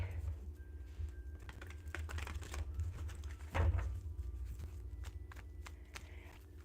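Tarot cards are shuffled by hand, giving scattered soft clicks and papery flutters with one louder slap midway, close and quiet, with no talk.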